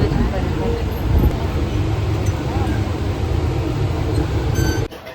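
A crowded local train runs steadily, with rumbling wheels and rail noise and occasional squeals, while passengers talk in the background; the sound drops abruptly near the end.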